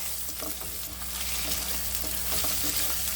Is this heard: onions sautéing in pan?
yes